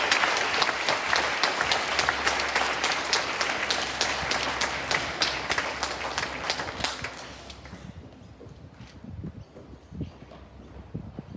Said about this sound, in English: Let's give the children of 5, 6C a wonderful round of applause.